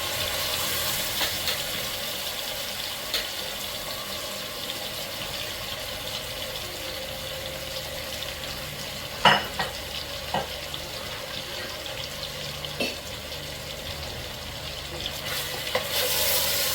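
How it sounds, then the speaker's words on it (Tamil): Marinated mutton being sautéed in a pressure cooker, a faint steady sizzle with occasional spoon knocks and scrapes against the cooker, one louder clank midway, close but quiet. "நல்லா வதக்கிக்கோங்க."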